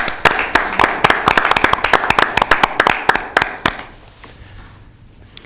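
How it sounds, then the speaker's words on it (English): A small room at a county board of supervisors meeting applauds the staff, with a few people clapping in quick uneven bursts that thin out and stop after about four seconds, followed by near silence. "I'd like to offer applause for the staff."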